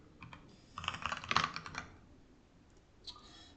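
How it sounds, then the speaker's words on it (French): Code being typed on a computer keyboard: a quiet run of quick key clicks that bunch into a denser burst in the middle, then a few more taps near the end, close by and alone. "je tape require player"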